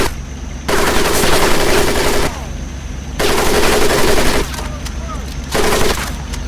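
Machine guns fire over a boot camp training course in the video game Medal of Honor Pacific Assault, in loud sustained bursts of a second or more separated by short gaps, over a constant low rumble.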